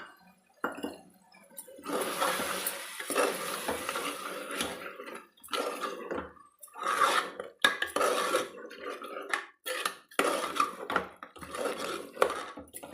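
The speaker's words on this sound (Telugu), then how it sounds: "ఇదంతా మంచిగా వేయించుకోవాలి" Mutton curry masala fried in oil and stirred in a pot, with irregular scraping and clinking of a ladle against the metal and soft sizzling that comes and goes, close and fairly loud, with no talk.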